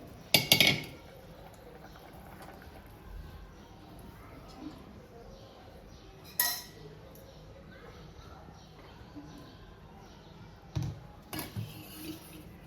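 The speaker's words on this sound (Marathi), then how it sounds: "आता त्याला आपण एका भांड्यात काढून घेऊ." Metal spoons scrape and clink against pots in a few scattered bursts as cooked chicken is transferred, with quiet kitchen background in between.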